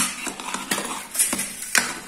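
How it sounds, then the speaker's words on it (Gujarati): A spoon stirring gravy khichdi in a home cooking pot after chopped coriander goes in, giving a few sharp metallic clinks and scrapes spaced irregularly over a quiet background. "હલાવી દે"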